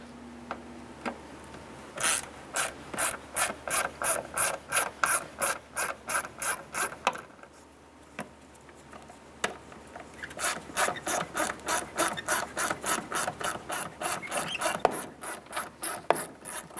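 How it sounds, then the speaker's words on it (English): A T20 Torx bit backs out the tail light screws on a 2002-2007 Jeep Liberty with rapid, evenly spaced ratcheting clicks in two close bursts, separated by a short pause. "Using a T20 Torx bit, want to go ahead and remove this screw and that screw."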